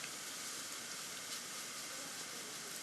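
A steamer blows a steady, loud hiss of broadband vapour over a sugar-paste butterfly for cake decorating, continuous and unbroken throughout with no talk.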